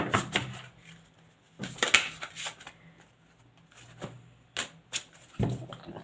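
Playing cards being shuffled up close in a quiet room, several separate riffling and slapping bursts with pauses between them.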